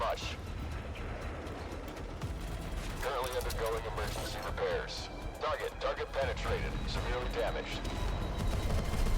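Tank battle game MWT Tank Battle with gunfire and explosive booms from tank weapons, including a missile launch, mixed with excited talking throughout.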